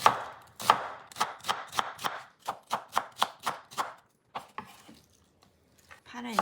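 A knife chops half an onion into thick slices on a cutting board, giving a quick run of about a dozen crisp, evenly spaced thuds, then a few slower cuts and a pause.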